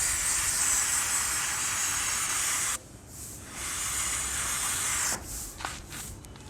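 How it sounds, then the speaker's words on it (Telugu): Chain lube sprayed from an aerosol can onto a KTM NS200 motorcycle chain while the wheel is turned by hand in neutral: a steady close hiss in long bursts, cutting off briefly and resuming, with no talk. "న్యూట్రల్లో పెట్టి టైర్ని ఇలా తిప్పుతూ స్ప్రే చేయండి."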